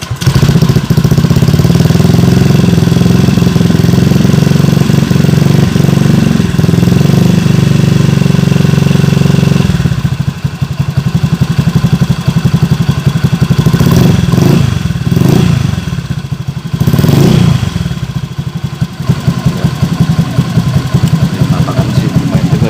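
A Honda Beat ESP scooter, under repair on its right rear disc brake, starts and idles loudly up close, a steady clattering engine drone that roughens and dips later with small throttle changes.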